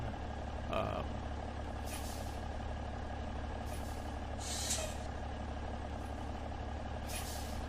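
A truck pulling a trailer reverses slowly in American Truck Simulator, with a steady low engine rumble under repeated short hisses of air brakes. No one speaks.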